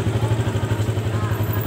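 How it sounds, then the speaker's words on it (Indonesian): A Yamaha Vixion motorcycle with a faulty charging system idles just after starting, making a steady, even, low pulsing engine rhythm close by, with a voice speaking over it. "Kemudian mesin saya nyalakan."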